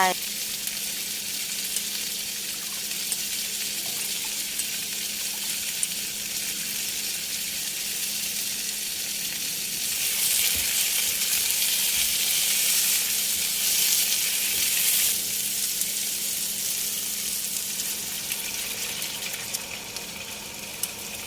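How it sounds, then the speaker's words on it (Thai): Eggplant stir-frying in oil with miso sauce for a vegan dish, a constant bright sizzle that swells louder for several seconds midway and then settles back to a steady hiss. "ว่าจะผัดมะเขือยาวกับน้ำมันนะคะ"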